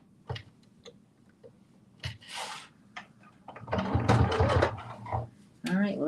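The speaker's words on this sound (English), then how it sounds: "Sewing on the last little bit." A sewing machine stitches a thick seam on a pair of slippers, running in short bursts and then a longer louder stretch, mixed with handling clatter and a voice talking over the work.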